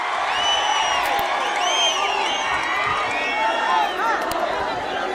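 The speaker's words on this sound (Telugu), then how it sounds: "అండగా ఉంటామని గట్టిగా చప్పట్లు కొట్టి హర్షాన్ని," A large crowd at a political rally for Chandrababu and TDP activists keeps up steady cheering, whistling and shouting throughout, with a few sharp claps mixed in.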